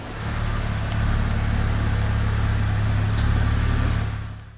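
A BMW Z4 3.0si Sport Coupe, nearly 13 years old, rolls into a detailing bay at the rear of a studio, its engine a steady, close mid-pitched hum that swells in briefly and fades away at the end.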